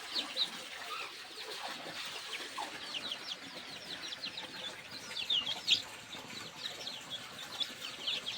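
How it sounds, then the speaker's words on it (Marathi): Desi village chickens cluck and chirp steadily at a poultry farm, with soft overlapping calls and some wing flutter close by, continuing throughout without talk. "ही परत एक गावठी कोंबडी आलेली आहे"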